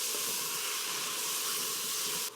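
Oxtail seasoning and garlic sauteing in a pot make a steady, loud sizzling hiss that runs unbroken, with a small clunk right at the end.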